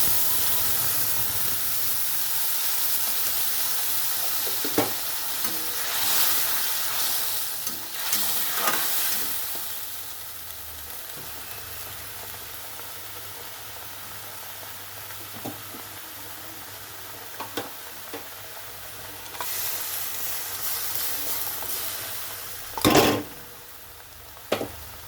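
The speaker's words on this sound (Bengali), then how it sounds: "এখানে আমার তেলটা গরম হয়ে গেছে, তো এখানে আমি সাদা গোটা জিরে দিয়ে দিচ্ছি।" Whole cumin seeds and spices fry in hot oil for a mushroom dish, giving a steady close sizzle with occasional sharp clicks and spoon stirs, swelling louder near the end.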